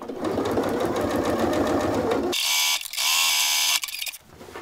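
A sewing machine stitches along the folded edge of a drawstring tote backpack, its motor running in a steady, loud mechanical whir. The whir shifts to a brighter, higher whine partway through, then briefly slows near the end.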